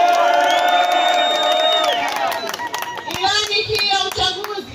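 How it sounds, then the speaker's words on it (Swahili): A crowd at a political campaign rally claps and cheers loudly, with whoops, scattered shouts and a sustained tone at the start before a second swell of applause and voices. "Piga makofi mengi."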